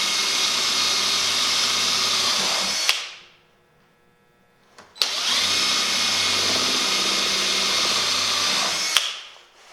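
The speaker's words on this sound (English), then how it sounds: "I could drill them with a smaller drill bit right away" A power drill with a smaller bit bores holes in wood for a screwdriver organizer, whining loudly and steadily for about three seconds, stopping, then running again for another long burst before cutting off.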